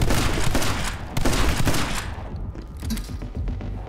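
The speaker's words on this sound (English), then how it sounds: "I need ammo for this damn machine gun, bro" Dense, continuous machine gun fire from the video game My Friend Pedro, a loud, rapid stream of gunshots with heavy low-end thumps running the whole time and easing slightly toward the end.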